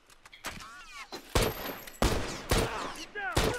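Gunfight in the video game The Last of Us, with several sharp gunshots cracking out at irregular intervals, each followed by a short ringing tail, fairly quiet overall.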